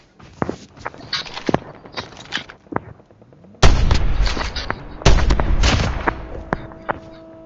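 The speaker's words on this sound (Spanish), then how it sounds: "Escucho disparos y un coche y tengo de todo." Gunfire in a multiplayer shooter game cracks out in scattered single shots, then several loud, booming blasts, with footsteps-like thuds between them and no talk.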